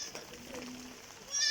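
A goat bleats close by on a farm where floodwater from a single day of rain is rising toward the animals, a short cry that swells loudest at the end over a steady background wash.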